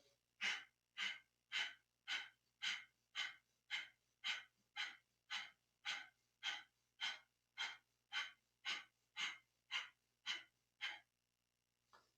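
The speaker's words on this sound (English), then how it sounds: "So let's begin breath of fire." Rapid rhythmic breath of fire during a Kundalini yoga exercise, about twenty sharp forceful exhalations in a steady even pulse, close and clear with no talking.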